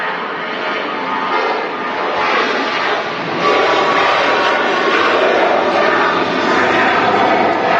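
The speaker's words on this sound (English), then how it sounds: "This Ryanair off to Dublin. Pretty noisy." A Ryanair jet roaring on its takeoff run at Manchester Airport, bound for Dublin: a loud, steady broadband engine rumble that swells slightly partway through, heard from nearby.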